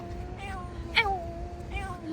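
A cat gives a single short meow about a second in, heard amid background voices and outdoor ambience.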